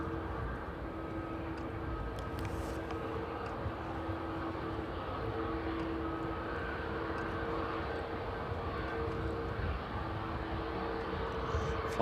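Passenger plane from Tenerife arriving at East Midlands Airport in the evening, a faint steady distant engine drone with a constant low hum throughout.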